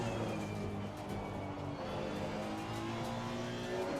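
Honda race car engine in the racing game Assetto Corsa Competizione at Laguna Seca, a sustained high-revving drone with shifting pitch as the car accelerates, loud and continuous with no talking.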